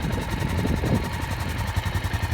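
A Honda XL 600 LM motorcycle engine idles with a lumpy, pulsing low rumble, close and loud, steady for a couple of seconds without any talking.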